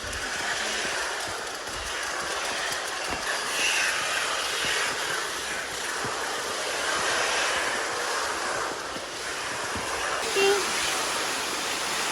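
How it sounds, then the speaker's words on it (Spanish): Underground waterfall inside the Guácharo cave in Venezuela, a steady broadband rush of falling water that fills the whole stretch at even loudness, with faint voices and cave echoes mixed underneath. "¿Quién diría? Una cascada"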